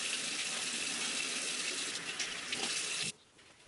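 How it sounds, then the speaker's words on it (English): Hands and fingers being washed under a running tap, a steady broadband rush of water that cuts off abruptly near the end, close and alone without talk. "So we wash our hands, wash our fingers to make sure they're nice and clean."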